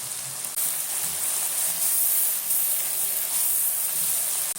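Masala with ginger-garlic paste and black pepper sizzling steadily in a pot for aloo gosht with chicken, a dense continuous crackling hiss that holds close and loud throughout, with no voices.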